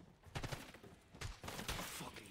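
Rapid bursts of video game gunfire crackle through a shooter match, with several clustered volleys of shots at moderate loudness and a dense, noisy background.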